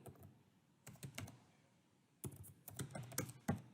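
Quiet, close keystrokes on a computer keyboard as a numeric value is entered: a short burst of clicks, a pause, then a quicker, denser run of taps.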